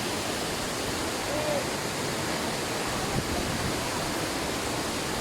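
Talasob Falls pours in a steady, full roar of falling water that holds an even, close loudness throughout, with no voices over it.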